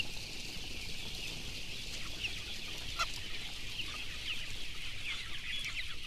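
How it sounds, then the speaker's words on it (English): Dense crowd of fast-growing meat chickens in a windowless broiler barn, a steady high-pitched chorus of peeping and clucking over a constant low ventilation hum, with occasional louder individual calls. "chickens raised in barns just like this"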